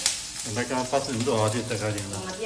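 Garlic and ginger sauté in a pan for a vendakka mappas, giving a steady background sizzle while a voice talks over it for most of the stretch.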